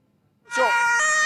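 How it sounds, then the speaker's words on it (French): An ambulance siren wails loud and near as the vehicle speeds toward a front line in Ukraine. The steady, tonal wail swells in quickly after a quiet start and holds strong to the end. "vous pouvez voir une ambulance qui va très très vite vers la ligne de front"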